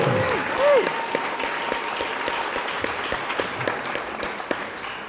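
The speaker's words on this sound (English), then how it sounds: "Let's give them a round of applause for their service" Audience applause for Native American code talkers of the Lakota and Dakota peoples, steady dense clapping from a crowd filling the whole stretch, with a brief voice near the start.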